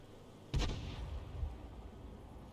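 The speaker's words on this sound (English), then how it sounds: "And there's more Arty rounds coming in." Artillery shells landing in a tank battle game, with a leFH18B2 howitzer in play: one loud, sharp blast followed by a rumbling tail and a second, softer distant thud.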